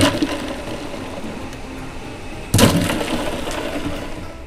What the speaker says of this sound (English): get these cucumbers down into an ice bath to get them nice and firm and crisp